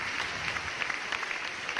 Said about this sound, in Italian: Applausi, grazie.